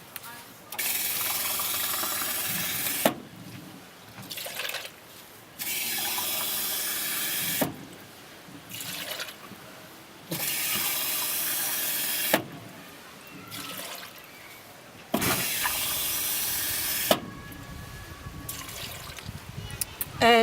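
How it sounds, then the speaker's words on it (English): Four cups of water poured one after another into a pasta pot make four separate rushing, splashing streams, each lasting a couple of seconds with quieter gaps between, close and clear. "And then I'm going to add 4 cups of water."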